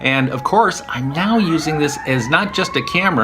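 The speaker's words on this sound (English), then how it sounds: "you can probably hear that siren in the background" An emergency siren wails faintly in the background outside a hotel room, its rising and falling tone running beneath someone speaking close up throughout.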